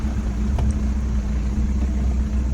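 Force Gurkha 4x4 in 4 low crawling up a rough hill stretch, a steady close engine drone with low rumble, unbroken through the short span and free of speech.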